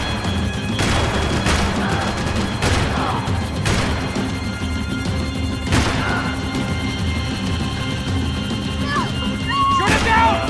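In the Max Payne 3 video game, sharp gunshots and impacts crack out every second or two over a loud, constant rumble of engine and action noise, with voices shouting at times.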